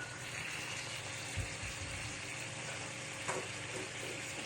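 Chicken frying in a pan as soy sauce goes in, for ayam kecap jeruk limau, gives a steady broadband sizzle with a few soft stirring bumps, close and even throughout, no voices.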